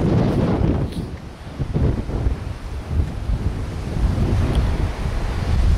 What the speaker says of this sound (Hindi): ये चट्टाने और चट्टानों से टकराता हुआ पानी।